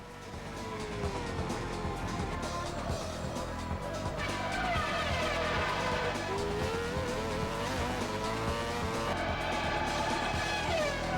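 Race car engines and tire squeal from an F1 car locking its brakes in the PS1 game F1 World Grand Prix 1999, a continuous loud engine drone with a rising skid screech in the middle.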